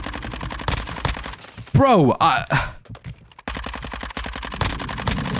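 Rapid automatic gunfire from a Bizon submachine gun in Modern Warfare II Search and Destroy, dense bursts of shots before and after a short gap where someone speaks excitedly.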